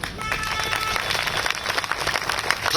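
Crowd clapping at a sports city launch event, a dense, continuous patter of many hands with uneven surges, fairly close and loud throughout.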